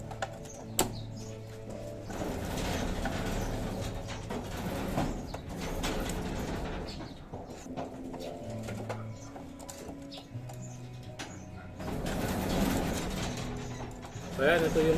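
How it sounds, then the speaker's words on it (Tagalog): Racing pigeons coo softly in a loft amid mechanical rattling and shuffling, while someone talks over much of the sound. "Ayan yung ibon."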